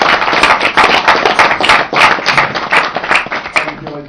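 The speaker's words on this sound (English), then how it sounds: "A round of applause for Brian." Dense, loud applause at a golden wedding celebration for Brian and Rita, many hands clapping steadily and close by for several seconds with no talk over it.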